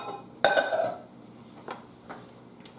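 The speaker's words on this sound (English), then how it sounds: "Let's move this pot out the way." A metal cooking pot is shoved aside on a kitchen counter during potato salad prep, giving one loud close clank with a brief ringing tail, then a few faint knocks.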